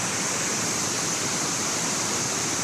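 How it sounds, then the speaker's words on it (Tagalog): Steady broadband rush of a waterfall in Trabzon, loud and close, with no voices over it for the whole stretch. "May falls doon, guys."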